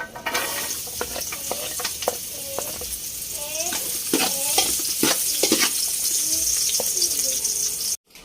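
Beef pares meat frying in oil, a continuous close sizzle broken by stirring scrapes and clacks, with birds cooing in the background before it cuts off abruptly.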